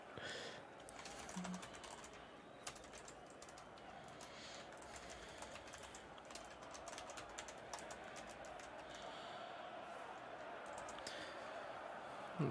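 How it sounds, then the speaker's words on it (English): Soft keyboard typing runs in the background of a live football watch-along stream, a faint, continuous patter of individual key clicks with a low ambient hum beneath. "I'm literally typing the message out for you if you want"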